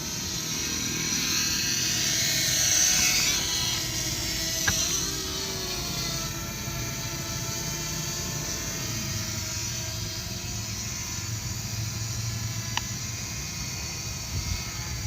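A DJI Mavic Mini drone hovers, giving a steady high-pitched propeller whine with a couple of faint clicks.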